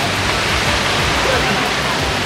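Water rushes continuously at San Benito Falls, a broad, steady, close roar of falling water with no breaks.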